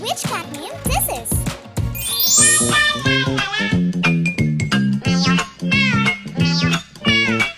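Meme cat sound: repeated sung meows in a bouncy rhythm, layered over jingly, tinkling music, loud and close throughout.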